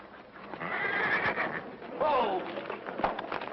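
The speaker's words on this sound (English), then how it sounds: "the stranger gets a nice horse" A horse whinnies twice in quick succession, the second neigh sharper, over hoof clatter and a background of voices in an old western film soundtrack.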